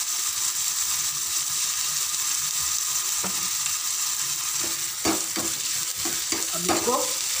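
Onion frying and browning in a pan for eggplant bharta, with a loud continuous sizzle and intermittent scraping stirs toward the end.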